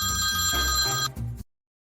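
A telephone rings loudly and close by in rapid, trilling bursts, then stops abruptly, leaving silence.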